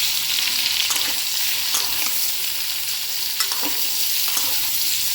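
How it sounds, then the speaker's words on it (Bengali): Boiled taro pieces frying in mustard oil in a wok give a steady, close hiss of sizzling with occasional soft stirring scrapes, no voices. "কড়াইয়ের মধ্যে সর্ষের তেল দিয়েছি, দিয়ে সেদ্ধ করা মানকচুগুলো দিয়ে একটু ভেজে নেব।"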